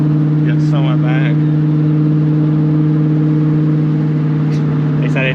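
A Ford Mustang GT, an S550, drives along with a steady, loud low engine drone held throughout, while people talk over it in the cabin.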